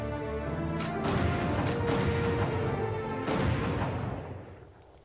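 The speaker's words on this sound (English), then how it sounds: "I do like the gunshot sound effects though" Gunfire sound effects in Valkyria Chronicles 4, a few loud booming shots with sharp onsets and long rumbling tails, the last one decaying into quiet.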